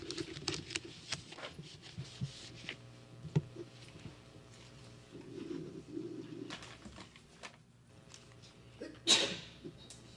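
A single sharp sneeze bursts out near the end, standing out over a low, steady room murmur with scattered faint knocks and movement during a county budget workshop meeting.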